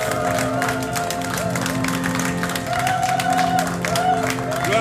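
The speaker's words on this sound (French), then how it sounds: "Applaudir pour notre Dieu." A church congregation at Sunday worship applauds, clapping blended with sustained tonal voices or music and scattered cheers, fairly loud and continuous throughout.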